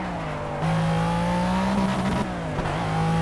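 A race car in the Project CARS driving simulator holds a loud, steady engine drone that climbs in pitch as it revs and accelerates, with a brief wobble partway through before the tone settles again.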